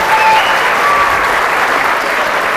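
An audience at a high school Holocaust presentation gives a loud, sustained round of applause after a guest receives a hat, the clapping dense and continuous with faint crowd murmur beneath.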